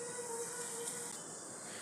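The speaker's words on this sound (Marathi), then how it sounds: "कढई गरम झाली त्यात मी आता तेल टाकते" Oil hitting a hot kadhai gives a steady, close, bright hiss and sizzle that holds evenly without a break.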